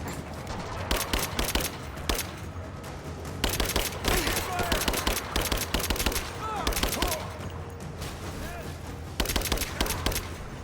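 Gunfire in the video game Rise of the Tomb Raider, bursts of rapid automatic shots in repeated volleys separated by short pauses, loud and close, with game voices calling out in between.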